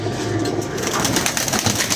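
Several caught pigeons coo close by in soft, throaty bursts, the calls overlapping in a continuous warbling murmur with no talking.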